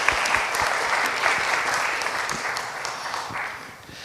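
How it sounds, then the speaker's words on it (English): Audience applause after a talk at a conference event, brisk and fairly close, with individual claps audible in the dense clapping before it begins to fade toward the end. "please clap to Sergio once more."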